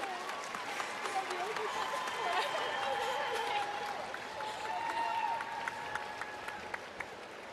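A crowd inside a gymnastics dome cheers and applauds during a meet's final vault rotation, a broad roar with scattered claps, while a commentator's voice carries over the noise.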